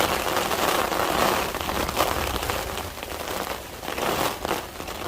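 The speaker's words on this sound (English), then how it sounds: "here comes the rain" Heavy rain pelts a car and a tarp at a stealth campsite during a wind storm, a dense, continuous crackling patter that swells and eases slightly, close and loud throughout with no voices.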